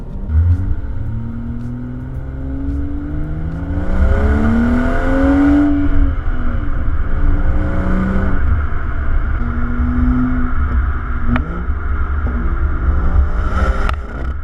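A 2018 BMW M240i with a six-speed manual and M Performance exhaust accelerates through the gears. The deep engine rises in pitch, drops at each shift and rises again, loud and continuous from the cabin, with no talk.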